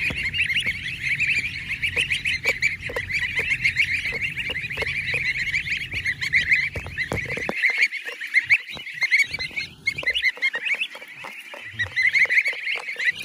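Geese honk continuously on a large integrated goose farm, a dense flock calling in overlapping nasal honks near and far, with a low rumble underneath that cuts out partway through.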